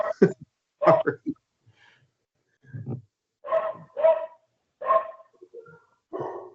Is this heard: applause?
no